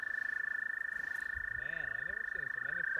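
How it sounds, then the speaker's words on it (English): Frogs croak softly in a repeated, wavering rhythm near water, set against a steady high insect-like tone and faint background. "Man, I've never seen so many frogs as that before."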